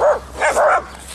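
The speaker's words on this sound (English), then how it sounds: "Little wiener dogs from next door." Small dachshunds from next door bark in a few yappy bursts, fairly close and loud over a brief span.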